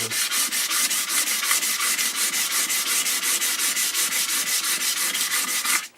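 Steady back-and-forth sanding strokes rub across the wood veneer cabinet of a black-and-white tube TV, a rapid even rhythm of about five strokes per second, close and loud with no talk.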